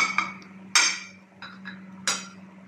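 A utensil knocks against a pot of carrots and potatoes, giving a few sharp, separate clinks over a quiet, low background hum.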